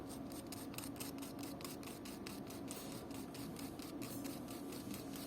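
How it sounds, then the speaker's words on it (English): Sandpaper rubbing over a leather Chanel shoe heel in quick, even back-and-forth strokes, a rapid rhythmic rasp repeating about three times a second, close and quiet with no talk. "I'm gonna sand it and apply leather filler"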